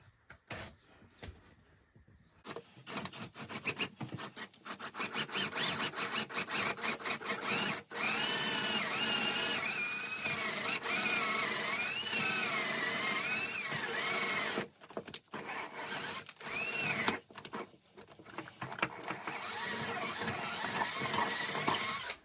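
A cordless drill with a nearly dead battery runs in repeated bursts, its whine sagging and slowing as it labors, with short pauses between runs.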